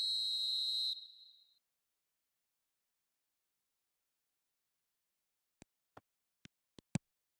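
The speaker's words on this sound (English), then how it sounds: "There's the whistle." A referee whistle sounds once, a sharp high tone lasting about a second in a football video game, then quiet before a few short dull knocks.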